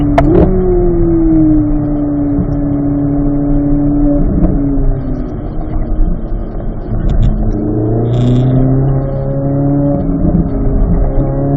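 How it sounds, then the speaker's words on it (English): A car engine on a driving course shifting into fourth gear, a loud steady engine drone that holds its pitch throughout, close by and with no talking. "Grab that fourth gear now."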